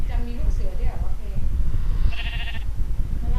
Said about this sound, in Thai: อุ้ยแพะรู้สึกก็ได้ยินเสียงแพะนะ